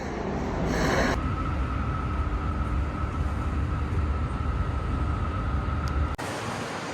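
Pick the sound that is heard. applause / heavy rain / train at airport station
train at airport station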